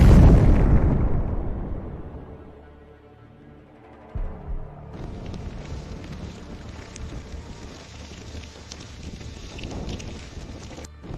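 A HIMARS missile strikes a Russian military vehicle in a convoy, opening with a huge close blast that rolls off into a long rumble, followed by steady wind-like roaring and crackling debris.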